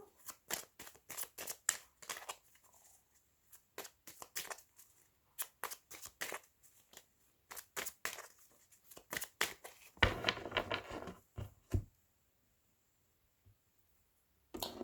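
Tarot cards being cut and handled, producing crisp, quiet card slaps and riffles in irregular bursts, with a longer shuffling flurry partway through and silent gaps between.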